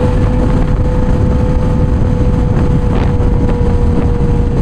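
A Suzuki GSX-R 750 cruising on a highway in fourth gear gives a steady, loud engine drone with a constant tone, overlaid by heavy wind buffeting on the microphone.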